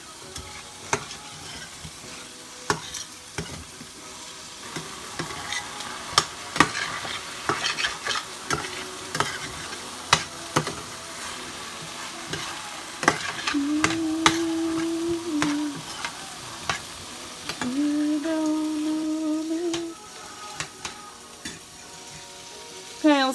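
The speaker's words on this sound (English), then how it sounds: "Over here, we've still got the meat cooking." Meat frying in a pan alongside browning rice, a steady sizzle with frequent clinks and scrapes of a utensil stirring against the pan, close and continuous throughout.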